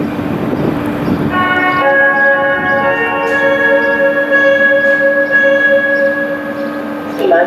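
CFR Călători Regio passenger train pulling into a Romanian station platform, a close, loud rumble of wheels with a sustained bell-like squeal of brakes across the clip.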